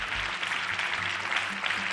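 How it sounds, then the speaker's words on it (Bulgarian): A studio audience applauds during a TV talk show as a guest is introduced, giving a steady wash of clapping for the full two seconds with a faint low rumble beneath. "Аплодисменти за главния психолог на картицата Ани Владимирова"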